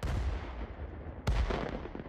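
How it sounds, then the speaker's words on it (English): Explosions going off in the Golf With Your Friends video game: deep, rumbling booms, with a sharp blast about halfway through, over a continuous heavy roar. "I can hear explosions in the distance."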